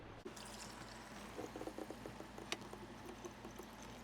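Liquid poured back into the tank of an ATV quad sprayer, a soft close trickling pour with gurgling splashes after a small knock, faint and continuous.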